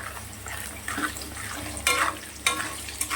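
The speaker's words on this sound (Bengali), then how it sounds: "দেখো, আলুটা ভেজে নিচ্ছি" Potato pieces fry in a pan with a soft continuous sizzle, broken by a few sharper bursts of spatter or stirring near the end, with no talking.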